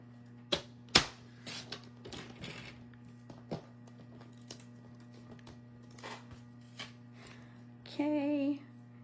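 Cardstock scraps cut into half-inch strips for a Halloween card, a few sharp snips and soft paper rustles over a steady low hum, ending with a short burst of speech.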